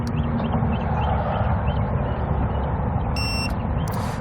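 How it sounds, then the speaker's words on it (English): A short electronic beep from an RV tire pressure monitor sounds over a steady motorhome engine idle, followed by a second brief beep right after. "push and hold the set button until we hear a beep"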